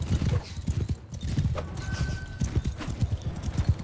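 Horses galloping with a steady clip-clop of hooves and occasional neighing during a battle in Mount & Blade II Bannerlord, loud and close, with brief voices underneath.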